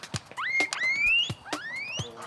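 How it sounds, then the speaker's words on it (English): A guinea pig lets out several high, rising squeaks, some long and drawn out, between soft clicks and rustles nearby. "does a guinea pig make a high sound or a low sound?"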